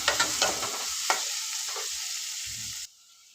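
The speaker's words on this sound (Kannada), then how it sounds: "ಸ್ವಲ್ಪ ಕರಿಬೇವು ಅದು ಕೂಡ ಚೆನ್ನಾಗಿರೋ ಜೊತೆಗೆ ಮಿಕ್ಸ್ ಮಾಡ್ಕೊಂಬಿಡೋಣ" Onions and curry leaves sizzling in a pan as they are stirred, several sharp spatula knocks and scrapes over a bright hiss that cuts off abruptly near the end, with no talk.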